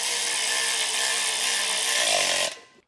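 A power tool drives a 1/2 inch socket to tighten carriage bolts while a 5th wheel trailer hitch kit is installed, giving one loud, close, sustained whir that cuts off abruptly near the end.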